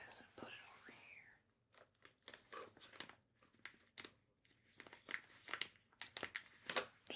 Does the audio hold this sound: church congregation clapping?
no